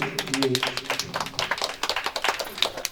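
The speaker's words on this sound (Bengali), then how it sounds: "সবাইকে বলবো একটু হাততালি।" An audience at a book launch event in Chandannagar claps in sparse, uneven bursts that settle into a looser rhythm of separate claps, with talking heard at the start.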